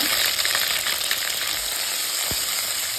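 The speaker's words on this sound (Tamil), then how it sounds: "அதில் இஞ்சி பூண்டு பேஸ்ட் ஆட் பண்ணிக்கோங்க" Ginger garlic paste fries in hot oil with mustard seeds in a pan for village-style mutton curry, a loud dense crackling sizzle close up with a light scrape, no speech.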